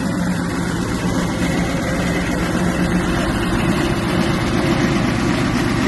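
A 1986 Buick Regal V6 engine idling, a steady low rumble held close and loud without change throughout, with no talking.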